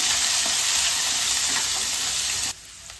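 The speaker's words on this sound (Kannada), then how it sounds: "ಈರುಳ್ಳಿ ಹಾಕ್ತಾಯಿದ್ದೀನಿ ಇದೊಂದು ಎರಡು ಸೆಕೆಂಡು ಎಲ್ಲ ಫ್ರೈ ಆಗಿದೆ" Chopped onions with green chillies and carrot fry in a pan, a loud steady broadband sizzle that stops abruptly near the end, leaving a faint hiss.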